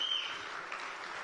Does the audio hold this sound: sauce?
no